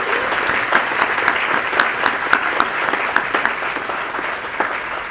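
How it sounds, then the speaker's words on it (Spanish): A crowd at a Dominican cultural dictionary launch event in Miami gives loud, sustained applause, many hands clapping in a dense steady patter that tapers slightly at the end. "Un fuerte aplauso para todos."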